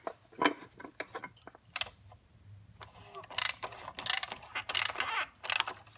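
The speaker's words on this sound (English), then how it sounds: "And then as we screw the cap back on, it'll lock it into place." A plastic oil filter housing cap is screwed onto a Chevy Cruze engine, giving off rapid ratcheting clicks in short uneven bursts, close by, with a quieter stretch in the middle.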